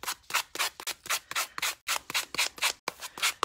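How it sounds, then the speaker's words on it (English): A sanding block rubs along the edges of grey board and paper for a handmade notebook, making a steady run of about a dozen close, rhythmic scraping strokes with brief pauses between them. "I'm going to take my sanding block here."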